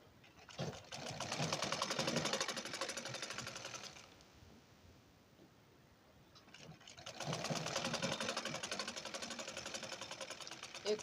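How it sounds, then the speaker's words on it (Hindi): A sewing machine stitches around the border of a blouse, a rapid close mechanical clatter in two runs of a few seconds each, separated by a quieter pause while the fabric is repositioned. "पकड़ लेते हैं और सिलाई लगाते जाना है इसे।"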